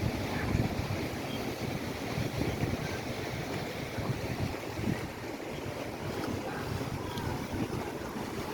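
Water taxi boats motor along Venice's Grand Canal, a continuous low engine churn and water wash heard from above, mixed with steady wind buffeting the microphone.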